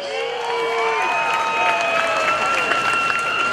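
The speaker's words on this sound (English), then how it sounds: "Give him a big round of applause." Crowd applause and cheering at the 2011 NAS Oceana Airshow for Les Shockley, steady and fairly loud, with announcer talk and whistling tones threaded through it.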